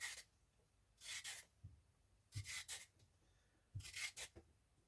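A carrot is peeled with a potato peeler in a home kitchen, giving three quiet clusters of short rasping scrapes, each made of a few quick strokes separated by brief pauses.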